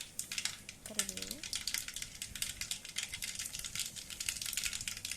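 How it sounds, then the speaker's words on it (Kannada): Mustard seeds and curry leaves fry in a little oil for uppittu, a quiet, rapid, irregular crackle of sharp pops and spatters that continues throughout, with a brief voice near the start. "ಇದು ಸ್ವಲ್ಪ ಎಣ್ಣೆಯಲ್ಲಿ ಫ್ರೈ ಆಗಲಿ ಫ್ರೆಂಡ್ಸ್"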